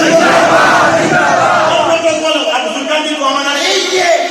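A dense crowd in a mosque loudly chants religious slogans together, a sustained roar of many voices with no gaps, answering a cleric's call during a sermon.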